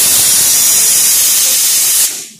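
Chicken cooks in a hot pan with a loud, steady sizzle close by. The hiss holds evenly, then cuts off abruptly near the end.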